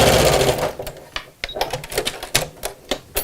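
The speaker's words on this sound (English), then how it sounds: "I've just lengthened the stitch slightly over the fleeced side because I tend to find that the fleece makes the machine drag a little bit" A sewing machine stitches through fleece for a Miss Messenger bag with a lengthened stitch, running in a rapid rattling burst that slows into short, uneven runs of stitches, close and loud with no talking.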